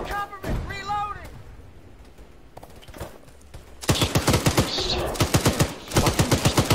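Enemy machine gun fire in ARMA 3, rapid bursts of close, loud shots rattling in quick rhythm, with scattered single cracks early on and voices talking between the volleys.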